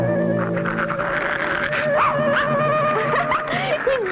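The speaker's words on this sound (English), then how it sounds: "He's barking at that awful-looking face." A dog in a Clutch Cargo cartoon barks and yips at a scary mask, sharp overlapping calls over a busy music score, fairly loud and close throughout.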